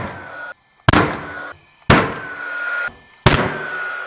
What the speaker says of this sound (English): using the spit gun with the D-line clips to fix this cable